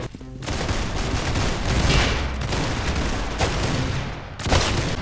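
Shotgun blasts in the Roblox shooter game Arsenal ring out as a loud, dense volley of overlapping gunfire, with a fresh sharp burst near the end.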